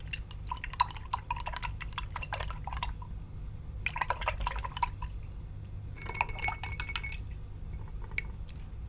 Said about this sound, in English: I'm going to wash my brush.